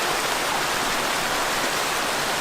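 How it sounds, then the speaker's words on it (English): A waterfall on Bonita Creek in Arizona's Mogollon Rim country sends up a steady, dense roar of rushing water, close and unbroken throughout, with no voices. "Pretty cool waterfall."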